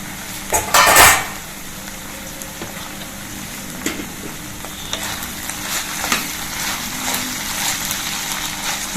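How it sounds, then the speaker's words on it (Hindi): Drumstick and potato sabzi sizzles in a pan while a spoon stirs it. A loud scrape and clatter sounds near the start, and a steady close frying hiss continues with occasional light knocks, with no voices. "बीच बीच में चलाते रहेंगे जिससे जले नहीं।"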